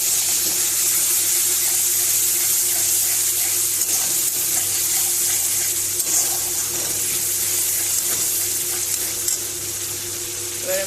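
Spice paste sizzles and fries steadily in a hot pan, a loud continuous hiss with faint stirring scrapes throughout.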